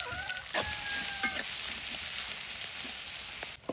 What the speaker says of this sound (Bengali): মশলাটা খুব ভালোভাবে ভেজে নিচ্ছি।